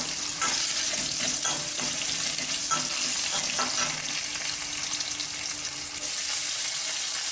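Onions sauté in hot oil in a pan for a Tamil Pongal mixed-vegetable kulambu, giving a steady, close sizzle with occasional stirring scrapes and no talking.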